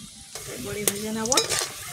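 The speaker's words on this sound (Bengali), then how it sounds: "বড়ি ভেজে নেব" Lentil bori fry in hot oil and are stirred in a pan, giving a soft continuous sizzle with a few brief scraping stirs, close up.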